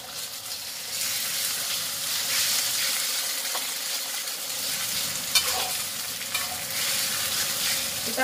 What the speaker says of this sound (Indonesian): Kita tumis sampai ayamnya mateng ya teman-teman ya